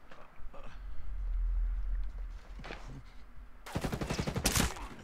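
Gunfire in the Ghost Recon Breakpoint tactical shooter game comes as a few muffled shots early, then a dense, loud burst of rapid fire near the end, over a low rumbling game background.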